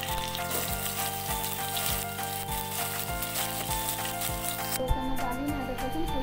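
Garlic frying in a reduced amount of oil after chicken pieces for Hyderabadi chicken tikka biryani, a steady sizzling hiss under a continuous musical background with a regular beat.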